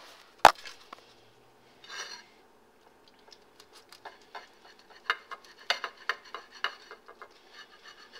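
A knife slicing through a Bulgarian cheese sandwich on a board, heard as a sharp knock followed by a brief crunchy cut and then a run of small irregular taps and scrapes, close and clear with no talking.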